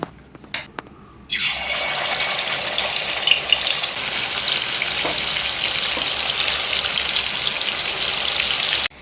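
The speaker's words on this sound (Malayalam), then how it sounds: "എണ്ണ ചൂടായിട്ടുണ്ട്, നമുക്ക് ചിക്കൻ വറുത്തെടുക്കാം" A loud, steady sizzle of chicken frying in hot oil starts after a brief pause and crackles on evenly, close up.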